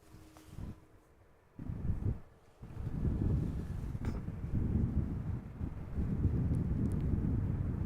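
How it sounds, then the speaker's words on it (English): Wind blows at Amsterdam Schiphol Airport, buffeting the microphone in uneven gusts with a low rumbling roar that drops out briefly and then settles into a steadier rush. "So the wind is more or less headwind, not a lot of crabbing today. Just a calm breeze."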